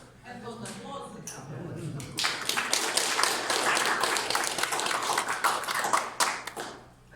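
Audience at a research presentation on youth perceptions of the EU in Ukraine and the Baltics claps for a few seconds, dense clapping filling the room after a spoken introduction, then tapering off.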